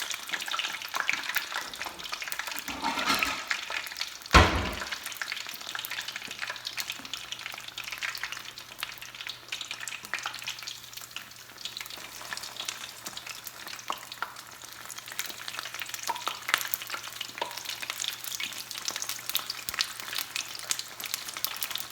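Alcapurrias fry in hot oil with a steady crackling sizzle and bubbling, plus a brief clatter of handling early on, continuing evenly at close range.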